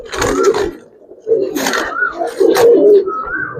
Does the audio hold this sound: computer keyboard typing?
no